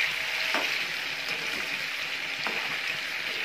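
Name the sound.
fish frying half-way in salted oil for fish curry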